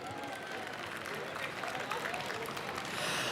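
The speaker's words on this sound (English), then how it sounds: "I think he deserves another round of applause" An audience applauding steadily in a hall during a flag hosting ceremony, a dense even wash of clapping that swells slightly toward the end, heard from some distance at moderate level.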